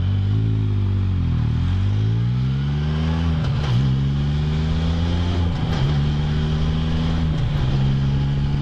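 A 2015 Can-Am Spyder three-wheeler fitted with EBC brake pads slows hard from 50 mph with the clutch in. Its loud, close engine drones steadily and shifts in pitch, broken by three brief clunks, with wind noise and no talk.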